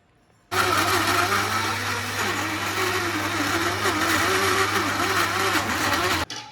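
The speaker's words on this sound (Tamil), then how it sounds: "இந்த சுட்ட அடைங்களை வந்து இந்த மாதிரி மிக்சி ஜாரில் போட்டு நல்லா ஒரு ஓட்டு ஓட்டி எடுத்துக்கலாம்" A mixer grinder jar whirs loudly as it grinds roasted adai pieces, starting abruptly, running at a steady high-pitched motor whine with slight rhythmic wavering, then cutting off sharply.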